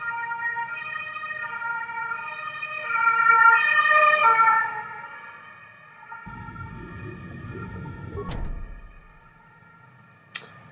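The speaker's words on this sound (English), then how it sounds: "With sirens in the background." A wailing emergency siren in the video game Star Wars: Knights of the Old Republic rises and falls over a steady backdrop of game music, then fades as low rumbling effects take over.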